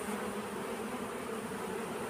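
Honey bees from strong, crowded colonies buzz in a dense, continuous drone, steady and close with no other sounds.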